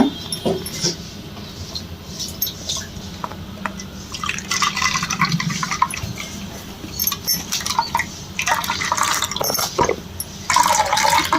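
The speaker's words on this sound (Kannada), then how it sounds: "ಕೊಬ್ಬರಿ ಹಾಲು ಹಿಂಗೆ ತೆಕ್ಕೊಬಿಡ್ತೀನಿ ನಾನು" Freshly ground coconut is squeezed by hand, milk dripping and trickling into a vessel in close, wet, irregular spurts and splashes, with no voices.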